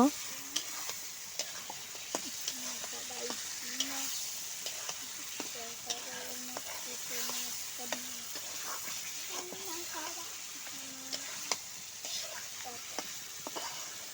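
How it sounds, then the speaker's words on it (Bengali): Chicken pieces cooking with spices in a frying pan sizzle steadily while a spoon stirs and scrapes through them in scattered close clinks and scrapes. "মাংসগুলো দিয়ে দিচ্ছি। ভালোভাবে নেড়ে চেড়ে মশলাগুলো মিশিয়ে দেব।"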